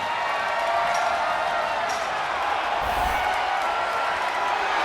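A dense arena crowd roars and cheers during a steel-cage women's match in WWE 2K26, a steady loud wash of noise with a brief swell near the middle, under faint commentary.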